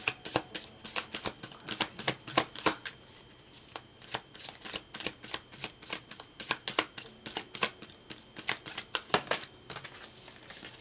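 A brand-new Sacred Destiny Oracle card deck being shuffled by hand, a steady run of crisp riffling bursts repeating close up for the whole stretch, with a brief softer pause partway through and no talk.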